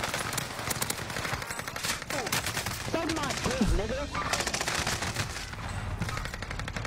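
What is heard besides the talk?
gunfire in a shooter video game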